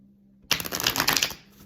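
Tarot cards are shuffled in one quick riffling burst close by, lasting about a second after a short silence.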